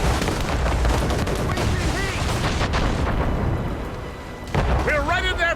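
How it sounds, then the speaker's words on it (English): Mortar and cannon fire booms through a naval battle in Assassin's Creed Rogue, dense continuous blasts with shouted voices and music over the din. "They're firing mortars!"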